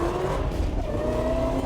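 A Mazda B2500 truck runs on a dry track, a loud continuous engine drone with faint tire scrub, heard from inside and close.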